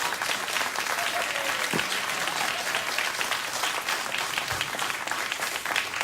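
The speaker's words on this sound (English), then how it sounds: "So there's 2 rounds of applause in this segment." Studio audience applause on a late-night talk show, a dense, steady wash of clapping from a crowd that carries on without a break, with a few faint voices mixed in.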